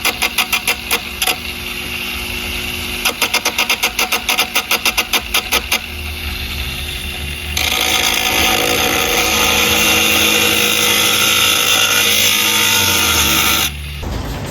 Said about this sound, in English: We used a little grinder and sand it down and stuff.